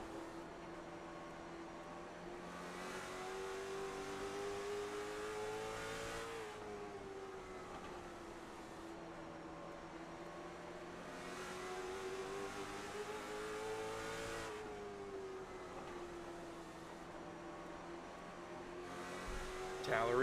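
Late model stock cars race at South Boston Speedway, their engines droning and rising in pitch as they wind up and ease off through the laps, heard steadily under faint commentary.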